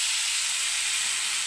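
Chopped cabbage hits hot oil in a pan and gives off a steady, bright, hissing sizzle that fills the whole moment at an even, fairly loud level with no talk over it.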